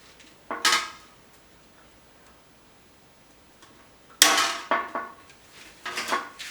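Hand riveting aluminium shroud panels for a BMW E36 M3 radiator, heard as a few sharp snapping clacks, one early and a cluster later, in a quiet room.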